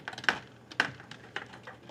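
Typing on a computer keyboard, a few sharp key clicks spaced irregularly with two louder strokes, close and alone without speech.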